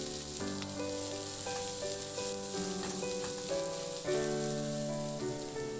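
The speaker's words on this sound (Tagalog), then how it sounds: "Maglagay din ako ng sibuyas. Ihalo lang din hanggang sa mag-translucent." Onions fry with ginger in a pan for a chicken dish, giving a soft, continuous sizzle as they are stirred. Steady music with tones plays over the frying throughout.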